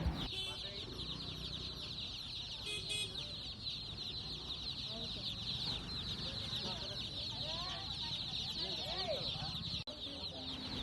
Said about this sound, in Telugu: ఈ చిన్న చిన్న కోడి పిల్లలు